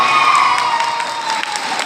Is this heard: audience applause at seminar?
yes